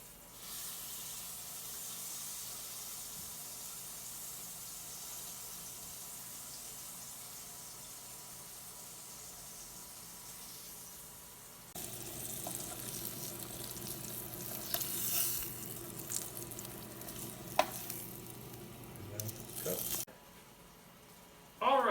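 Pork browning fat side down in a hot pan gives a steady, faint sizzle that grows louder and busier partway through, with occasional spits and clatter.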